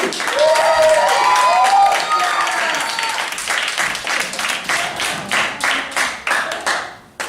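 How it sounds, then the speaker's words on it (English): Comedy show audience applauding for a comedian, loud dense clapping that swells early then thins into separate claps and tails off, with a voice briefly over it. "Give him the biggest round of applause"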